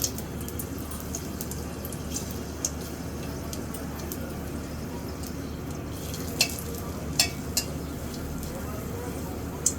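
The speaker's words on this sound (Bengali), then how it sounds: "শুকনা মাছ ভাজি হয়ে গেছে" Dried fish fries in hot oil in a wok, giving a steady, even sizzling hiss throughout with a few sharp spatters and pops near the end.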